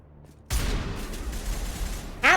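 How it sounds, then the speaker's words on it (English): Video game gunfire from Mass Effect aimed at Rachni creatures: a loud, dense burst of rapid shots starts suddenly and runs continuously, with a brighter crack near the end. "Happily, I can just fire vaguely in the direction of a Rachni and they'll die."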